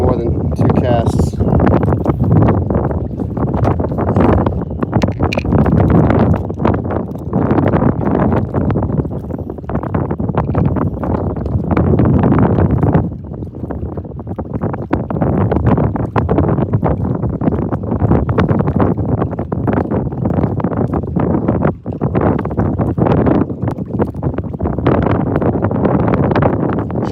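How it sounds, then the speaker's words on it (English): Strong wind roars steadily against the microphone out on the water during a fishing trip, loud and unbroken for the whole stretch, with one brief lull midway. "That wind is tough."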